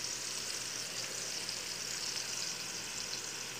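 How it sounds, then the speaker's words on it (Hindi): Onion, garlic and green chili frying in oil in a pan, a steady, even sizzle with a continuous hiss and no break, close and moderately quiet. "प्याज लहसुन हरी मिर्ची, मैं इसको फ्राई कर रहा हूँ।"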